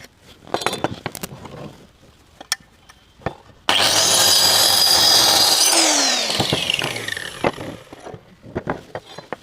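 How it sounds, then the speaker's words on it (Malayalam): Wood is cut for a double-sided joint. A burst of loud, harsh sawing lasts about two seconds, with the pitch sliding down as it winds off, set between scattered knocks and clatter from handling the workpiece. "ആദ്യം നമുക്കിതിൻ്റെ മട്ടം വരച്ച് ലെവൽ കട്ട് ചെയ്യാം."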